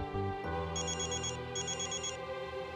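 A phone rings with an incoming call, a repeated electronic trilling ring in two bursts, fairly clear against a low steady background hum.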